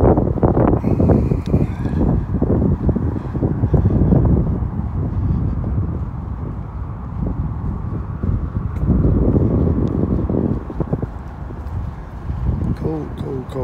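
Cold wind blows hard outdoors in downtown Birmingham, Alabama, a constant loud rumble buffeting the microphone throughout while someone talks over it.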